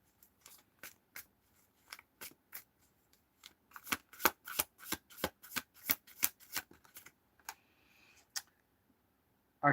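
Tarot cards are shuffled by hand in a quiet room: a run of crisp riffling snaps and taps, sparse at first and then quicker and denser, ending with a lighter shuffle and one sharp knock.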